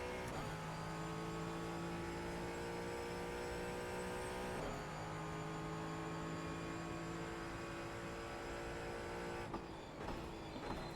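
A Mustang GT4 race car in the sim racing game iRacing drones steadily at high revs, its engine pitch holding then shifting with gear changes, loud and continuous with no talk.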